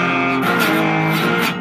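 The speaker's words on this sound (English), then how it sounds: "if I did it all in downstrokes, it would sound like" A cigar box guitar plays a riff in all downstrokes, a short, loud, steady burst of strummed notes with a slight shift in pitch partway through.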